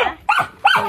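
A dog gives two quick, loud barks close by, evenly spaced less than half a second apart.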